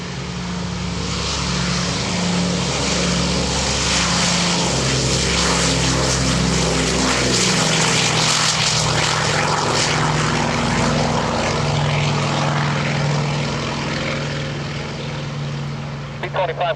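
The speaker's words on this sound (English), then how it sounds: "power coming up on the DC-6" A Douglas DC-6 piston propeller airliner departing EAA AirVenture powers up its engines in a loud, sustained droning roar with throbbing low tones, rising in intensity under an excited voice talking over it.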